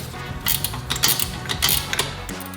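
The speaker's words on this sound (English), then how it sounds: "These stubby ratcheting wrenches are a lifesaver for this job." A stubby ratcheting wrench turns the alternator bolts on a Toyota RAV4: a rapid, close run of mechanical ratchet clicks in repeated strokes, with a brief pause near the end and no talking.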